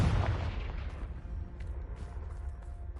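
Confringo blasting spell in a Hogwarts video game, a loud booming burst at the start that decays into a rumbling tail, with faint crackles afterward.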